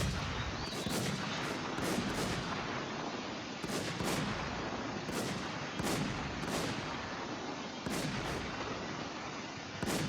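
Gunfire in the shooter game WarZ: a string of sharp, loud shots cracking at irregular intervals, some in quick pairs, over a steady background rumble and with no talking.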